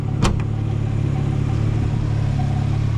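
A Volkswagen Mk2 Jetta idles with a steady, low engine hum, preceded by a brief sharp clack near the start, the drone holding even and close throughout.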